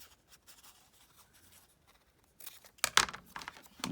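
Paper is cut at close range in a crafting session, with soft scraping at first, then a few sharper, louder snips and rustles in the final seconds.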